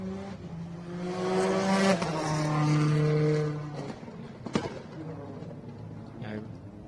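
A Subaru rally car, bigger and heavier than a Rally 2 car, revs hard through a stage of the Adelaide Hills Rally, its engine rising and shifting over a few seconds before fading, with a commentator talking over it.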